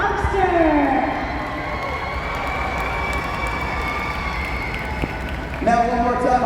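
Crowd cheering and shouting at a Hot Wheels Monster Truck Live Glow & Fire show in San Diego, a steady broad roar from a large arena audience over a low rumble, with an announcer's voice over it at the start and end.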